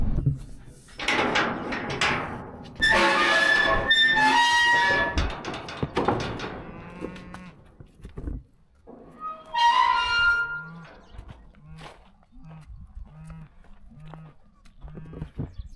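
Hereford cattle low and call in bursts, with long harmonic moos near and farther off, followed by a run of short, repeated low calls.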